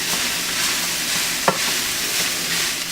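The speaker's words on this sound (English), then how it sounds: "I kind of tossed our vegetables, our fresh vegetables, for a few minutes" Fresh vegetables sizzling in a hot pan while they are stirred, a steady close frying hiss with one sharp scrape of the utensil, and no talking.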